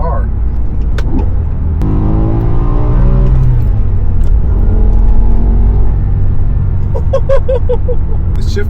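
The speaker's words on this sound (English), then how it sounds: "I can definitely confirm this car is way more peppy, way more revvy too" A manual BMW M5 E60 with a rebuilt V10 revs hard nearby, its engine note rising in pitch then settling into a loud, continuous rumble with rising tones.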